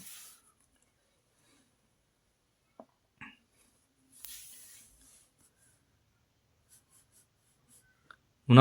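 Writing on paper or a board in a quiet room comes as a few sparse, short scratchy strokes separated by long silent gaps.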